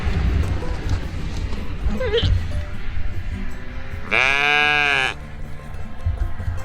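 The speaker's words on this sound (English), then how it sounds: "this goat's trying to eat my clothes" A goat bleats once, loud and close, a drawn-out wavering cry of about a second amid outdoor farmyard noise, with a fainter bleat shortly before.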